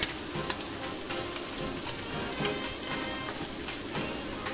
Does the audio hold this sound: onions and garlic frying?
yes